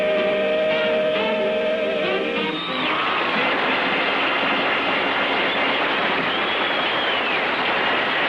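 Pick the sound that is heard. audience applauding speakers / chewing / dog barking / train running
train running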